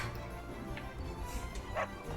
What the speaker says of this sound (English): Man, even the dogs are barking at you.